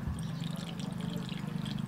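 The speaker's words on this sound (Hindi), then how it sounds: "अभी डालते हैं इसमें पानी" Water is poured into a brass oil lamp, making a steady, close, gurgling trickle that runs unbroken for a couple of seconds.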